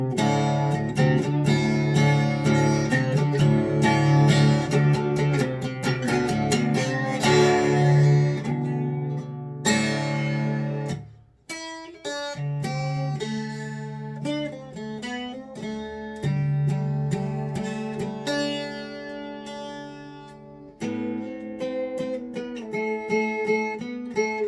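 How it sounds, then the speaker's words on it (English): A 12-string guitar in DADGAD tuning at 432 Hz rings out in strummed chords and picked notes, with a brief drop near the middle before a sparser, arpeggiated passage continues alone. "find yourself a 12 string, tune into DADGAD, and at 432 hertz"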